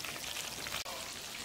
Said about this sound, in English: you see them frying nicely